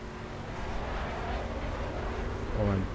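A car driven in the racing video game The Crew, a steady engine drone with a rumbling low end, rising slightly near the end.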